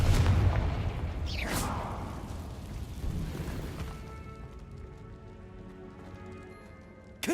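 A Confringo blast spell explodes in Hogwarts Legacy, a loud booming burst with a crackling rush that fades over several seconds into a quieter rumbling tail, ending in a sharp hit.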